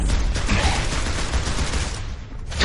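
Pistol fire in Gears of War 3 comes as a dense burst of loud, rapid gunshots packed close together, with the volume dipping briefly near the end.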